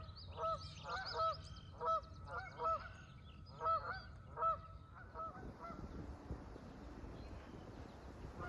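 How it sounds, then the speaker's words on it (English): Sandhill cranes give repeated rattling, bugling calls in rhythmic bursts near a lake on a Kettle Moraine forest trail, fairly distant over wind noise, then fading out. "we've been hearing so many sandhill cranes today"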